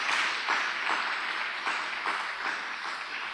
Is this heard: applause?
yes